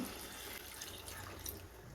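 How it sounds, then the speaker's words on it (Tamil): Water is poured into chicken gravy as it cooks, a steady soft liquid wash running for about two seconds at low, even level with no talking. "இப்போ கொஞ்சமாக தண்ணி சேர்த்துப்போம்."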